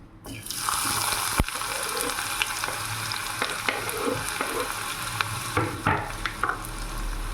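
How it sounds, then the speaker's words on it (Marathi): Onions sizzle steadily in a hot pan over popped mustard seeds, a loud continuous crackle with occasional clinks and stirring sounds, and no voices. "छान कांदा फ्राय होत आहे"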